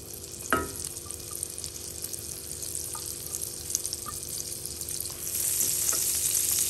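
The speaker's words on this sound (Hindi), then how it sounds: "अब उसी पैन में ये बचा हुआ बटर डाल रही हूँ मैं" Leftover butter sizzling steadily in a pan for paneer butter masala, a close continuous hiss with one sharp clink near the start and the frying growing slightly louder toward the end, no voices.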